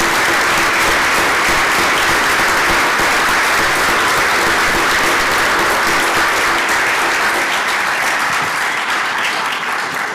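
Sustained applause from the audience at a book launch for the novel "Las Heridas" fills the room, dense and loud, with no talking over it.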